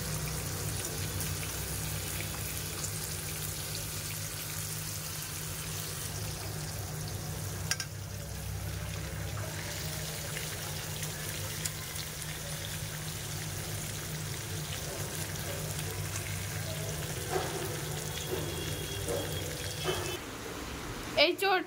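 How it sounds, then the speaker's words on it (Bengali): Fish fry in a pan with a soft, steady sizzle and low hiss, fairly quiet and close, with a few clinks of utensils toward the end. "এই তো আমি মাছগুলো ভেজে নিচ্ছি"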